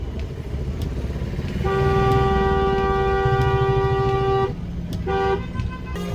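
Loud, sustained car horns blare over heavy traffic noise, one long continuous honk followed by a few shorter blasts.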